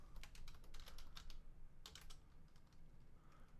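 Keys tapped on a computer keyboard in short bursts: a quick run of clicks, a pause, then a few more keystrokes, close and fairly quiet.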